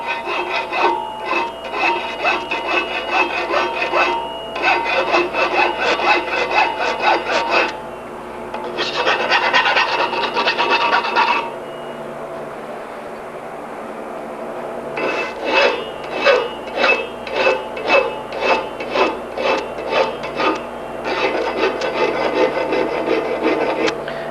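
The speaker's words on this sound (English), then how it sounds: "I'm not filing that off square. I'm kind of giving it a bit of a taper." A hand file works a steel bicycle frame lug to a taper, giving loud, close, rasping strokes in steady rhythmic runs, with a few short pauses between runs and no talking.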